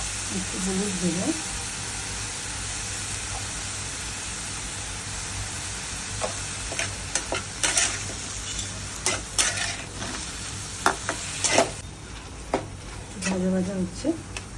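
Sponge gourd and lentil dumplings with salt and turmeric fry and get stirred in a pan, a steady close sizzle with bursts of spatula scraping and clinks. A voice speaks briefly at the start and end.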